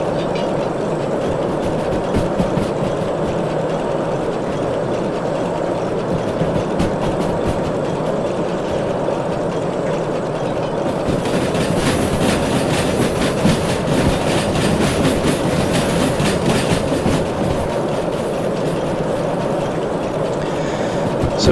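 A steam locomotive in the train simulator game Derail Valley hauling hazardous gas containers rolls steadily along with rhythmic wheel clatter and engine rumble, growing brighter and louder partway through, with no voices.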